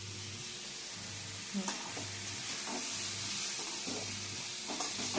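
Beetroot sautés in a pan for chutney with a close, continuous sizzle and repeated scraping stirs at a steady rhythm.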